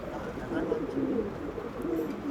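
Andhra pigeons in a loft give low, steady cooing that runs without a break, close and moderately loud, with a soft background murmur.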